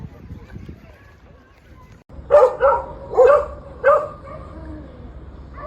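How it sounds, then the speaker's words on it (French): Stray dogs bark at night, four or five sharp, fairly close barks in an uneven burst after a quieter stretch of low background noise. "Les chiens errants. Ils se déplacent en troupeau. Enfin en meute plutôt."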